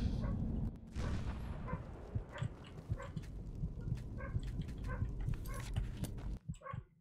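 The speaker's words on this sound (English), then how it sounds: "now my dogs are barking again." Several dogs bark indoors with short, scattered yips and barks, fairly faint, over a steady low background hum.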